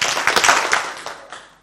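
A group claps together in a quick burst of overlapping handclaps, fairly close, then the sound fades out.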